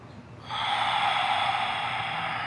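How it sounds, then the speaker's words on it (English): A person in a restorative yoga session draws one long, steady breath that begins abruptly and holds at an even, fairly loud level, close to the microphone with no talking. "Taking some time to really get into your breathing."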